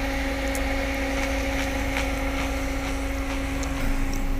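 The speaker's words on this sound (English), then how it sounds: "The aircon's going mad." A car's air conditioning blows hard on a hot day, a steady loud whooshing roar with a constant hum running through it, close and unbroken, with no voices.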